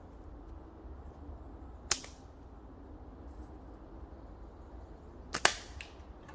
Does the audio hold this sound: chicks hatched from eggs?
no